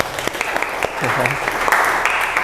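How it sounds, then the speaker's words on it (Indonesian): Students clap in a classroom, a brief burst of clapping mixed with voices throughout. "Tepuk tangan untuk kalian semua."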